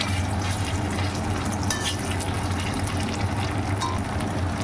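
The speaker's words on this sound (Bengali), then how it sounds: "এবার এর মধ্যে শিলপাটাতে বেটে রাখা সেই মশলা দিয়ে দিচ্ছি।" Ground spice paste, hand-crushed on a grinding stone, going into a pan of potato pieces already fried until reddish, giving a steady, close frying sizzle with stirring over a low hum, no talk.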